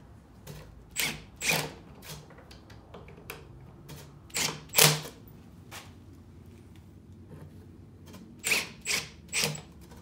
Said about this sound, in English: So we'll get some screws in it.